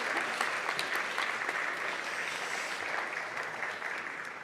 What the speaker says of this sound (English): Round of applause for the judging panel.